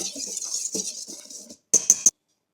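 Flour, salt and white sugar are stirred together in a bowl, giving soft scraping rustles followed by three quick bright clinks of a utensil against the bowl, then silence.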